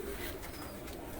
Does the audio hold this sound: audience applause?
no